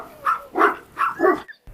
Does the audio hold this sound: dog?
yes